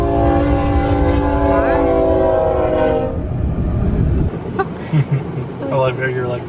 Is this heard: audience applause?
no